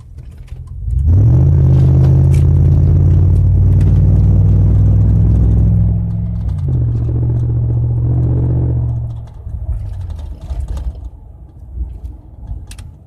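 A used car at a dealer auction accelerates hard across a parking lot, its engine roaring loud and close as the revs climb, drop at a gear change, climb again, then fade.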